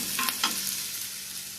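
Onions frying in a pan for paneer masala, giving a steady broadband sizzle with a couple of brief stirring scrapes near the start; close and continuous, no voices.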